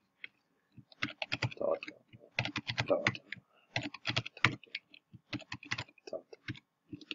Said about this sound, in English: Just typing in placeholders again.